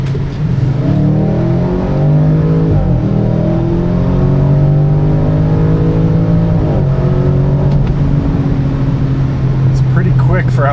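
A 2021 Audi RS6 Avant pulls hard from inside the cabin, its engine drone rising and falling through gear changes in a steady, loud, continuous roar.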